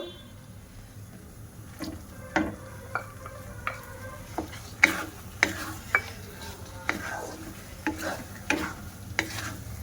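A semolina caramel halwa with raisins being stirred in a pan, its spoon scraping in a steady series of distinct, fairly close strokes under a faint sizzle.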